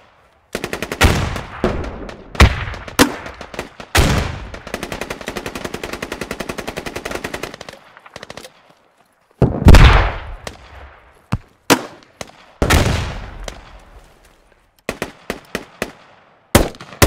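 Gunfire and grenade blasts in the military shooter Squad, on the Kohat Toi River Valley map: long loud bursts of rapid automatic fire, then scattered single shots and heavy booming explosions, close and sharp, with no talking.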